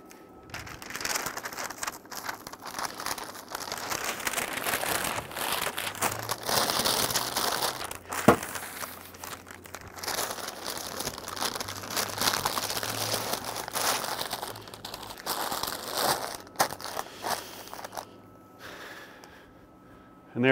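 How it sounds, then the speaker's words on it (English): A smoked brisket is wrapped for resting, giving steady close crinkling and crumpling of wrapping material over about twenty seconds, with brief rustles, one sharp tap and occasional faint breaths. "let's get this guy wrapped so we can get it rested."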